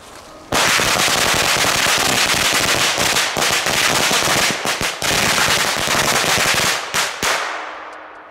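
A firecracker mat explodes in a long, dense, continuous rapid crackle of loud bangs that cuts off abruptly near the end.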